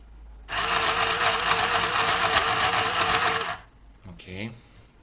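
A sewing machine stitches hair wefts for a female hair topper, running in one steady burst of about three seconds before stopping, followed by a brief faint voice.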